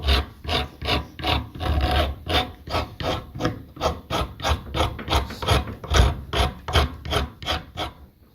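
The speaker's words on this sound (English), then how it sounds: "I pretty much have to go around with some sandpaper" Hand sanding along the edge of a black locust wood slab with sandpaper: steady back-and-forth rasping strokes, about two per second, close and loud with no talk.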